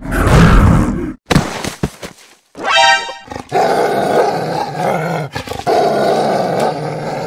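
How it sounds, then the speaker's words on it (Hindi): A dog growls and barks loudly in a school classroom, harsh snarling bursts with brief pauses, close and dominant over faint background noise. "ये तो क्लास में कुत्ता लेकर क्यों आया है"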